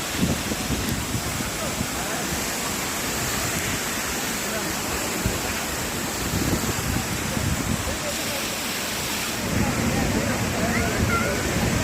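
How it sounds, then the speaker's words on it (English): The Aathirapalli waterfall roars with a steady, dense rush of falling water that fills the entire clip with constant broadband noise. "The beauty of waterfall and the beauty of gravity."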